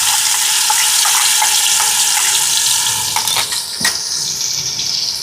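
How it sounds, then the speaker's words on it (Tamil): Ginger garlic paste sizzles and spatters in hot coconut oil in a pan, a loud continuous frying hiss broken by scraping stirs and a few sharp clinks near the end. "இப்போ இது கொஞ்சம் எண்ணெயில் வதங்கட்டுக்கும்"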